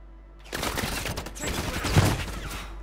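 Rapid gunfire bursts from a Warzone match erupt suddenly and keep going in a dense, close volley that peaks near the end, heard from the player's position.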